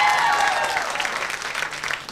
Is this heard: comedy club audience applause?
yes